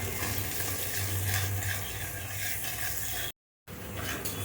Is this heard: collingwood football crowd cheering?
no